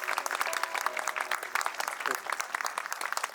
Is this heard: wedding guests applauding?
yes